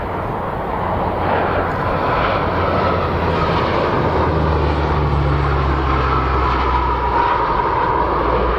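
A German Navy P-3C Orion turboprop drones loudly and steadily at an airshow, its engines giving a continuous close roar with low humming tones throughout.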